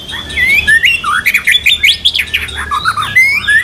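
Songbird singing close and clear, a rapid string of bright chirps, whistled slurs and short trills broken by brief pauses, with no talking.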